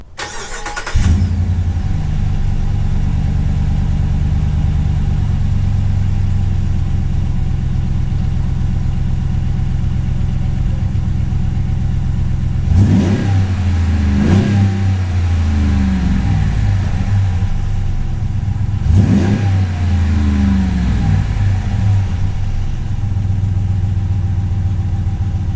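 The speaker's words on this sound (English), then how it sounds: "we're gonna get the first startup on this bad boy Borla Touring exhaust on a Ram 1500." A Ram 1500 pickup with the 5.7 Hemi V8 and a Borla Touring exhaust cranks and fires up loudly, settles into a deep steady idle, then gives two sharp revs before dropping back to idle.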